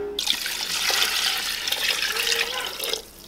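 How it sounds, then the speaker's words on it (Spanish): Water pours steadily into a cooking pot holding a large stew of meat with a head of garlic and bay leaves, a continuous close splashing stream that stops near the end, with no talking. "voy a ponerle un poquito más de agua."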